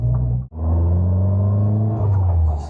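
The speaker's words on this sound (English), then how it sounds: "it's quite a nice note that you get from the Sigma engine in the 310" A Caterham 310R with its Sigma engine gives a loud, steady exhaust note while driving. There is a brief dip at a gear change, then the note climbs again as it pulls.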